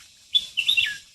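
Birds chirp in a Konkan forest, two bursts of high, bright tweets, the second longer and busier, heard fairly close against a quiet background with no one talking.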